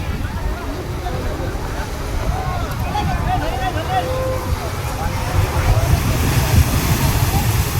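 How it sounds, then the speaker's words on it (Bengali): Rough sea waves breaking at Digha beach, a constant loud roar of surf mixed with heavy wind buffeting the microphone, and a faint murmur of people in the background. "দীঘার সমুদ্রের ঢেউ কত উত্তাল"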